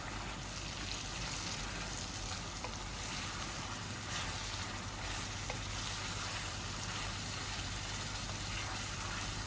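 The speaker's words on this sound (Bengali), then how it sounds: "এই আমি নাড়াচাড়া করে আমি ঢেকে দিচ্ছি এটাকে, কিং ফোড়নটাকে।" Curry powder, ground coriander and cumin frying in a pan for keema bhuna, a continuous faint hiss with occasional soft scrapes of stirring, steady and close.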